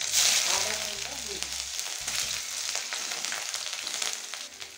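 Panch phoron spices sizzle in hot oil in a pan, a loud, dense frying hiss up close that runs continuously with scattered crackles and light stirring sounds.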